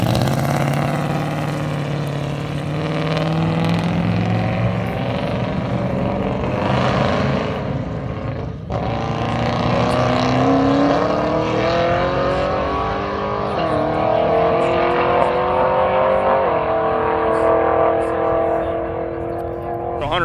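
A drag race car at a street car takeover event revs and accelerates hard down the strip at about 165 mph, with loud, rising engine tones through repeated gear changes over roughly twenty seconds.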